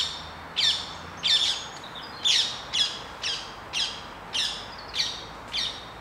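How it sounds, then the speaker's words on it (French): Birds calling outdoors in a rural setting, a series of about nine sharp, bright squawking calls repeating at a steady rhythm, clear and fairly close over a quiet background. "Ah, les oiseaux décidément hein."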